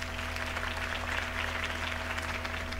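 A crowd in Batman: The Telltale Series breaks into steady applause after a campaign speech, a dense, continuous wash of clapping that holds evenly throughout.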